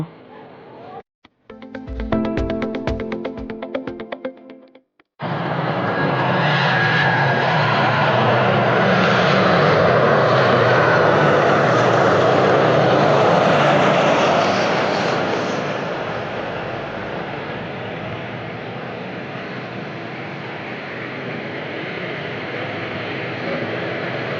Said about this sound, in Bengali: এই বিমানটা রেডি হচ্ছে টেক অফ করার জন্য